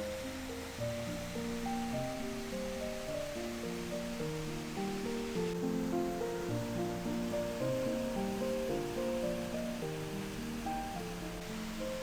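Three-tiered waterfall pours through the seven arched floodgates of Hwahongmun on Suwon's fortress wall, a steady, even rushing roar of falling water heard close and continuous, with no voices.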